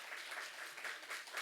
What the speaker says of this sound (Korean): 저희가 박수로 환영하겠습니다.